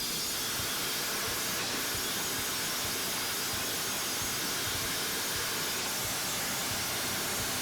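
A Ryobi pressure washer blasts water through its 0-degree nozzle, making a loud, continuous, harsh hiss of spray that holds steady and unbroken from start to finish.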